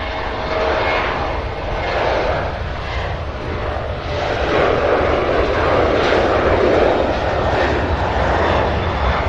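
A jet airliner roars steadily down runway 18 left at Cincinnati's CVG airport on takeoff, a loud broad engine rumble that swells slightly as it builds power, with no voices.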